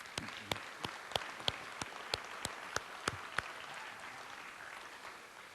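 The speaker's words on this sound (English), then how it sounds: "Let's give them a round of applause as well." Sparse, faint clapping from a small audience at an adult education commencement ceremony, a dozen or so distinct claps over a few seconds that taper off.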